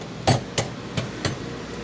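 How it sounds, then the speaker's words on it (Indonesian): Four sharp, evenly spaced thumps ring out close by as a hard-shelled crab is smashed for cooking, with quiet gaps between each blow. "untuk kepitingnya digeprek ya, biar nanti bumbunya meresap"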